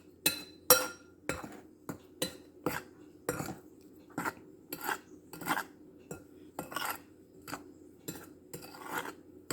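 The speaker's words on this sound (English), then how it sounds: "mix all my dry ingredients, or you can whisk it" A utensil clinks and scrapes against a bowl while dry scone ingredients for blueberry scones are mixed, producing a steady rhythm of sharp taps and rasping strokes, close and distinct, without any voices.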